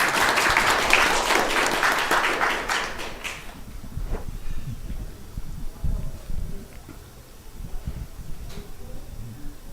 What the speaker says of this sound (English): Please give Maharaj a warm round of applause.